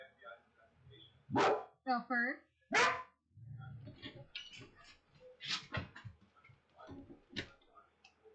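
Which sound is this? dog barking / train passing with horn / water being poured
dog barking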